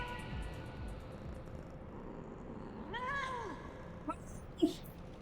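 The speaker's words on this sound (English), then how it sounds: "The cat noises in this fucking game are hilarious to me." Cartoonish cat meows from the video game Final Fantasy 14 play over busy game sounds, one drawn-out mew followed by a couple of short chirpy mews near the end.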